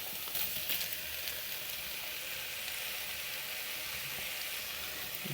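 Chicken pieces and chopped tomato stir-fry in a pan, giving a steady, close hissing sizzle with faint occasional clicks and stirring scrapes.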